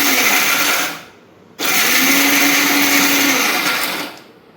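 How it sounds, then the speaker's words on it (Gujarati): Mixer grinder crushing sweet ladoo mixture, a loud close whirring blend that runs about a second, cuts out briefly, then restarts and whirs steadily for a few more seconds before stopping. "મિક્સરને કરી દઈએ"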